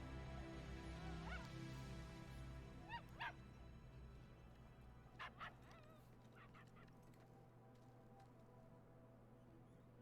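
A dog in the video game The Division 2 gives several short, high whimpers and yips spaced across a few seconds, faint and mixed under a steady low game hum and background music.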